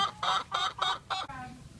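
Hens in a thermally insulated crate indoors cluck in a quick, even series of about five close, throaty clucks, then a softer trailing murmur.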